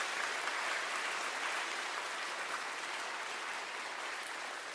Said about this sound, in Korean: 우리 한번 다시 한번 박수로 영광 돌릴까요?